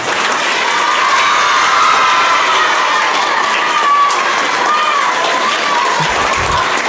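Loud, dense clapping and cheering from a large crowd of men and students at a school debate event, sustained throughout with shouts mixed in and a brief low thump near the end.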